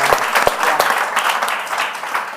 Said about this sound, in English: can we just give Universal Pictures a round of applause?